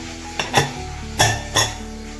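A pressure cooker lid is set and closed over beef roast, making three or four sharp metallic clanks and clinks of pot and lid at close range.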